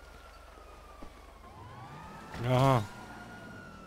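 A police car siren in the GTA V video game rises in a brief wailing sweep near the end, loud and close, after a quieter stretch of game ambience; a voice speaks briefly earlier.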